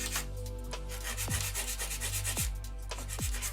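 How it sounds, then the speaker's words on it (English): A 120 grit file rubs along the sides of a sculpted acrylic nail, close continuous rasping strokes in an even back-and-forth rhythm. "file the sides."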